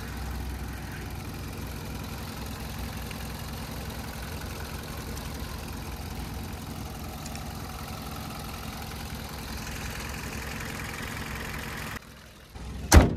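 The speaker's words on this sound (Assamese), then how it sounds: "এইটো চাওক এতিয়া শুনক ইঞ্জিনৰ সাউন্ড এইটো একদম" A black Hyundai Verna with about 20,000 km on it idles steadily, a low, even engine rumble that holds for roughly twelve seconds and then cuts off with a brief louder knock at the end. No one speaks.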